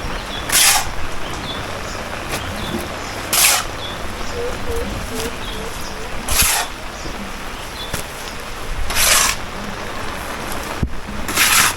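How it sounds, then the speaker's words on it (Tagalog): Steady heavy rain hisses across the whole clip, with a few sharp bright bursts of noise standing out at intervals; no voices. "Malakas din ang ulan."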